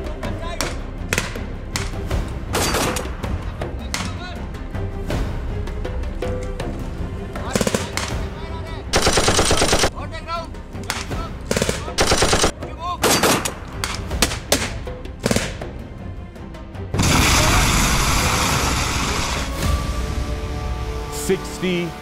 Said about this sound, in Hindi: एक दुश्मन की पोस्ट से हमारी तरफ फायर आया